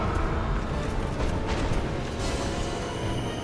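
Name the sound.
explosion in the video game Dark Souls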